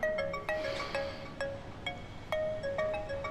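A mobile phone ringtone plays as a light, repeating melodic chime of short plucked notes in a quick rhythm, fairly faint over soft background noise, with no speech.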